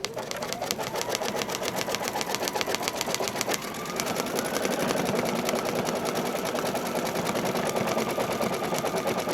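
An embroidery machine stitching a monogram onto a towel runs with a fast, continuous mechanical chatter of rapid needle strokes, steady and close. Its pitch shifts slightly partway through as the stitching carries on without a break.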